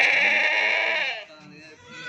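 Rajanpuri goat kids bleat loudly and close by in a steady, drawn-out cry that fades after about a second, followed by quieter farmyard sounds.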